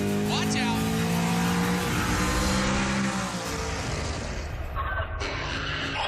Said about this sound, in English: It's about the best sounding car there ever was. It is a symphony around this track.